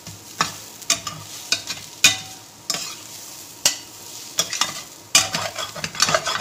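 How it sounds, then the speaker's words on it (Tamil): Channa dhal puttu with grated coconut is sautéed in a pan, a soft sizzle punctuated by sharp, regular scraping strokes of a spoon roughly every half second. "இது எல்லாத்தையும் கொட்டி நல்லா வதக்கணும்"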